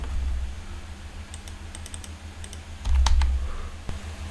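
Bursts of computer keyboard typing, separate clicky keystrokes in small clusters over a low steady hum, close and fairly clear with a denser flurry near the end.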